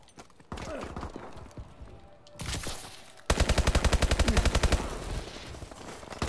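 Rapid automatic gunfire in Call of Duty: Advanced Warfare, a loud burst of close, evenly spaced shots that runs for several seconds after scattered earlier shots and game noise.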